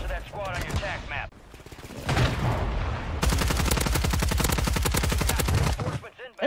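Rapid automatic gunfire in the Warzone 3 video game, dense bursts of shots running steadily for several seconds, loud and close, with someone talking over the start and game voice callouts mixed in.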